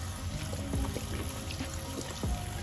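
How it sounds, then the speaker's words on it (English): Tap water runs steadily into a sink during handwashing with a Dove Beauty Bar, a continuous close pouring and splashing with a few brief knocks and squeaks of hands moving under the stream. "So let's go ahead and wash our hands."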